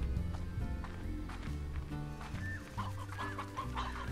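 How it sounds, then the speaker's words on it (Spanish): Chickens in the video game Slime Rancher cluck and murmur steadily over a constant low background hum, with a few higher squawks toward the end. "aquí hay más gallinas"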